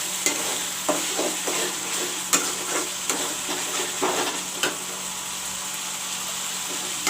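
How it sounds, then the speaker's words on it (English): Masala frying in a pan for egg curry, a constant hiss of sizzling oil punctuated by repeated scraping clicks of a spoon stirring, close and steady throughout. "I will let this masala turn brown also."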